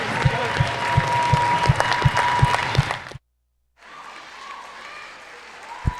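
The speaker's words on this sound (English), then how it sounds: "let's give one more round of applause to all of our senior athletes and pep band and color guard members" Applause from a crowd in a high school gym at a basketball game's senior night, loud and steady with low thumps through it, cut off by a sudden gap, then fainter crowd noise returning.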